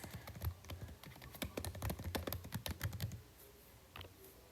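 Quick, dense typing on a computer keyboard, a busy run of close, crisp key clicks that slows to a few scattered taps near the end, with no talking.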